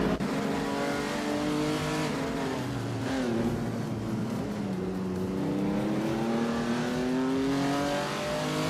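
A 1968 Honda 800 and other cars accelerate away at the start of a race at Atlanta Motorsports Park, engines revving hard and climbing through gears in a loud, continuous roar with no voices.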